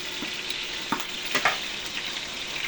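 Bangus (milkfish) frying in hot oil for barbecue bangus, a steady close sizzle broken by sharp popping splatters, loudest around the middle, with no talking.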